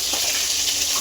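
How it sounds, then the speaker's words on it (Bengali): Fish frying in a pan at a home kitchen, a steady close hiss and crackle of hot oil throughout a brief moment, with no talking. "দেখো, এখানে আছে এই মাছ ভাজা হচ্ছে।"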